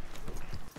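Quick clip-clop of a horse's hooves at a steady trot in a video game, loud and close, lasting under a second.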